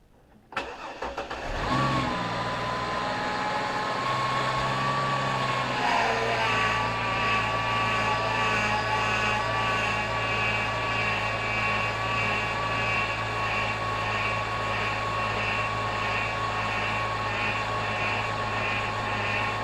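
A 2004 Chevy Blazer engine cranks and catches, then settles into a steady, loud idle with a high whine, likely from the power steering pump, running continuously close by with no speech.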